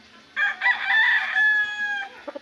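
A Sweater gamefowl rooster gives one loud, close crow that rises and holds for about two seconds, followed by a few short clucks.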